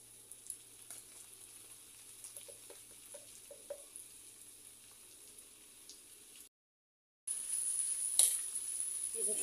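Onion paste fries in oil with ginger and garlic in a pan for a soybean masala fry, giving a faint, steady sizzle with a few soft stirring taps and a brief dropout before the sizzle returns slightly louder.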